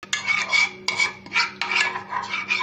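Spoon stirring gelatin in a little water in a small bowl: four rhythmic, close scraping strokes with brief gaps, no talk.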